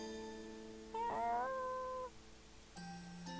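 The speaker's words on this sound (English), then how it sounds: "Oh, cat. Meow." A cat meows in the horror video game Misao, giving one rising, wavering cry between soft musical tones and electronic chimes.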